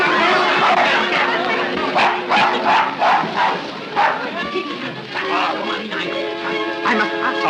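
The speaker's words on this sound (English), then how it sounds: "will you kindly take that dog out of the cabin?" A dog barks and yips repeatedly inside a train cabin in a 1936 suspense film, sharp repeated barks heard over steady background rumble and overlapping voices.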